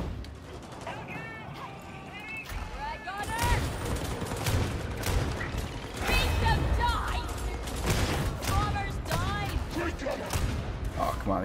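Gunfire from the video game Warhammer 40,000: Darktide builds into dense, rapid volleys and heavy thuds, loud and sustained, while someone talks over the shooting.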